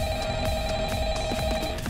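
Telephone ringing in the Five Nights at Freddy's video game, a steady electronic ring with repeating bursts about every quarter second, loud and continuous over low game background noise, no talking.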